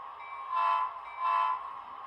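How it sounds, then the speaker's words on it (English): A small model train locomotive pulling a single resistor-equipped test car runs on a layout, its tone humming steadily and swelling twice in smooth pulses, fairly quiet and heard alone. "So I'm gonna get my locomotive started up here."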